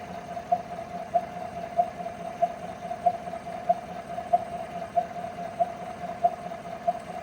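Failing Chevy 5.3 engine with 0w20 oil, idling with an abnormal cam noise: a steady, evenly spaced tick repeating about every two-thirds of a second over a low running hum, no voices.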